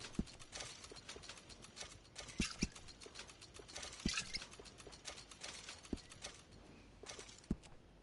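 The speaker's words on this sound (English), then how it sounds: "That's a fine steed." Horse in the Red Dead Redemption 2 video game, hooves clip-clopping at an uneven pace with tack and gear jingling, fairly quiet and close, without talk.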